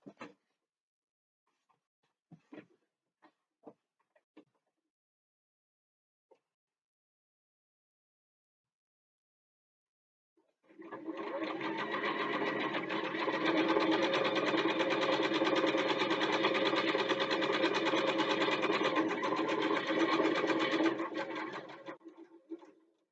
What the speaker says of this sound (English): we're going to sew on 3 sides